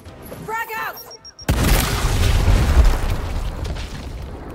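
A video game grenade detonates with a sudden loud boom, then a long rumbling roar and scattered debris. A voice speaks briefly just before the blast.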